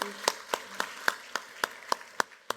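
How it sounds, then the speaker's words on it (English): A panel audience gives a few sparse, distinct claps spaced about a quarter second apart, faint and thin rather than a full round of applause. "if everyone could give their round of applause to the people"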